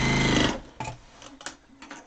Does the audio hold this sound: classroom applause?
no